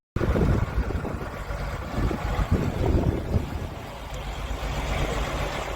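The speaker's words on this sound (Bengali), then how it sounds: "আর একটা জাহাজ যাচ্ছে চন্দ্রদ্বীপের দিকে" A ship passes on the Bay of Bengal, its low engine rumble mixed with steady wind noise and water, heard alone and fairly loud throughout.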